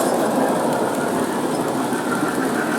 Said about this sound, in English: one more quick little film of these trains